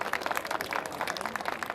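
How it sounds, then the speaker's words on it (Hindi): Brief burst of audience clapping at an outdoor event for a charity run in Dehradun, a lively, fairly dense patter of hand claps at moderate distance with no voices over it. "तालियां जोरदार होनी चाहिए, कम ऑन।"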